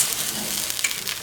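Rice coated with a sesame oil mixture is stirred in a hot frying pan, giving a short steady sizzle with light scraping, alone and fairly close.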